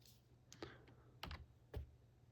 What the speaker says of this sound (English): if you press key B on the keyboard